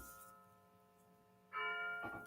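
A bell rings in a few faint, resonant strikes: one at the start, then two more close together near the end, each tone lingering.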